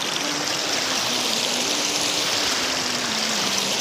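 Water of the Amrit Dhara waterfall and stream in Manendragarh, Chhattisgarh, rushes steadily over rocks, a loud continuous roar and splash filling the surroundings without pause.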